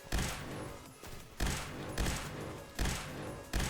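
Bursts of G11K2 rifle fire in the shooter game Phantom Forces, several loud rapid volleys spaced about half a second to a second apart, close and dominant.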